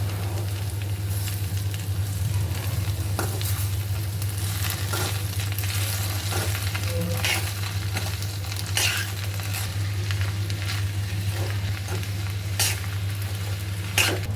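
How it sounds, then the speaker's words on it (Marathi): Okra and masala stir-fried together in a pan, with a steady close sizzle and frequent scraping and clattering stirs running throughout, without any talk. "भेंडी आणि मसाला एकत्र व्यवस्थित परतून घ्यायचं आहे"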